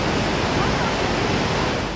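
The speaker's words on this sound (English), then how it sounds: "Just a few minutes up the road are the beautiful Sunwapta Falls on the Sunwapta River." Sunwapta Falls on the Sunwapta River in Jasper National Park, a steady, dense roar of rushing water, loud and continuous without breaks.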